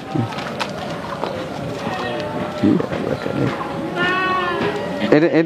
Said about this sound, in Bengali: এই যে বোয়ার, আফ্রিকান বোয়ার মা ছাগল